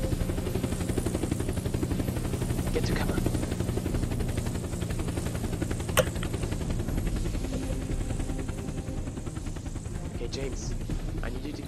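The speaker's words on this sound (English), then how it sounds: "I need you to keep an eye on the helicopter." Helicopter in the Unturned video game, a steady chopping rotor drone that holds at an even level for the whole stretch, broken by a few sharp cracks resembling distant gunfire.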